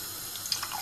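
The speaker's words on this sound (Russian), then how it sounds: "Теперь берем чайник и наливаем водички." Water pours from a kettle into a pot of beans, a soft splashing trickle with brief higher splashes near the end, fairly quiet and without voices.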